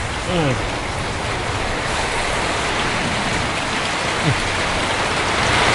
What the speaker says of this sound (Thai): ดูฝนตกครับ